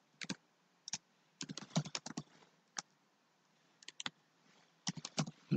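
Typing a Python import statement on a computer keyboard, with quiet, close key clicks in short irregular clusters separated by brief pauses.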